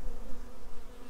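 Honey bees, including a large drone, buzz at a trap-out on a tree in a loud, steady, close hum that fills the whole short moment.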